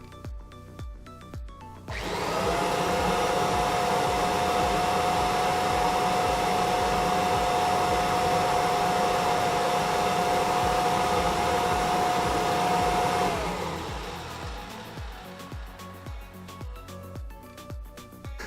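A 32-year-old Kirby Avalir vacuum cleaner runs at full power for about eleven seconds, a loud steady whirring whine with a sustained tone that starts and stops cleanly against quiet background noise.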